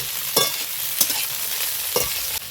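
Ingredients for chicken dopiyaza fry lightly in a pan, a steady close sizzle broken by three or four scraping stirs of a spatula at irregular intervals.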